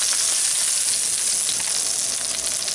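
Pork chops frying in a pan give off a loud, steady, close sizzle with a dense hiss that holds evenly throughout, and no voices are heard.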